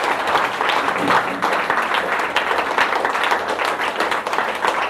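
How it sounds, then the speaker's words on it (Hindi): Audience applause filling the space for a woman's husband, credited as her guru and mentor, at a public gathering; dense, steady clapping holds throughout at a fairly loud level, with faint voices mixed underneath. "मैं चाहूँगी कि इनके लिए ज़बरदस्त तालियां चाहिए।"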